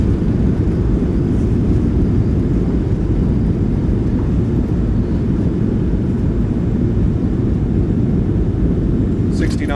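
A PMDG 737-700 in MSFS2024 rolls out after landing with thrust reversers deployed, a loud, steady, low roar that holds throughout before easing right at the end.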